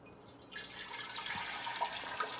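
Tea is poured straight into a fermentation batch in a steady, close gurgling stream of liquid that starts after a quiet moment and runs on evenly with faint splashes.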